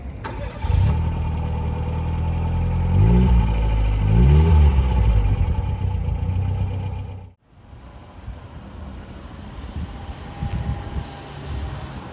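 A Fiat Cinquecento's 899cc four-cylinder engine running close by, a steady mid-pitched hum with a couple of revving swells before it cuts off abruptly, then quieter background noise.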